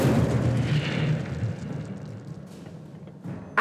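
An Incendio fire spell goes off in the Hogwarts Legacy game, a loud rumbling fiery whoosh that fades over a few seconds before a sharp burst at the end.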